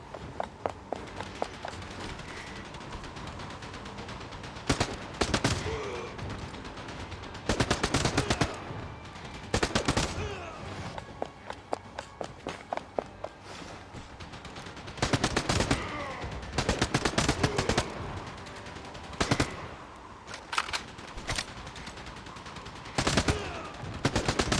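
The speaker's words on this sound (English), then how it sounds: "Time to crash it with my assault rifle." Bursts of assault rifle gunfire in the shooter game Warpath Ace Shooter, loud repeated volleys every few seconds over a constant background of game ambience.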